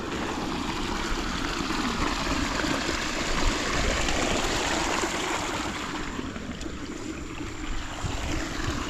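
Irrigation water gushing and flooding into a cabbage and pechay vegetable field, a loud continuous rushing wash that stays steady and close throughout, with no talk.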